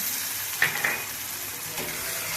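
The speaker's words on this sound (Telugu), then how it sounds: "ఉల్లిపాయలు అయితే బాగా వేగింది కదండి అల్లం పేస్ట్ వేసుకుందాం" Onions frying in a pan hiss steadily as ginger paste goes in, with a couple of small clinks and a soft stir under the continuous sizzle.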